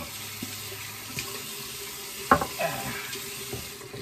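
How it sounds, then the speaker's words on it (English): Water trickles and splashes quietly into a shaving bowl, with a sharper clink partway through and soft stirring sounds around it. "Water in the bowl"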